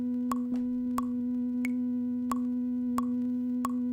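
A synthesizer on a dawless ambient synthwave setup holds a steady low drone, punctuated by short, regular blips roughly every two-thirds of a second; fairly quiet, with no voices.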